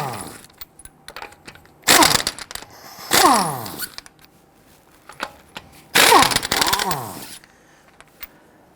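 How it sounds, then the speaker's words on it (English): Lug nuts on an INFINITI G37 X being loosened and removed with a 21mm socket: several loud bursts of ratcheting, clanking metal, each lasting about a second, separated by quieter rattles and handling noise. "loosen and remove your lug nuts."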